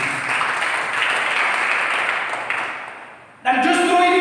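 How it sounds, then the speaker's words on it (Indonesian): A church congregation applauds together at a Sunday worship service in Rantauprapat, a broad, steady wash of clapping that fades out before a preacher's voice resumes. "Berikan tepuk tangan yang berikan."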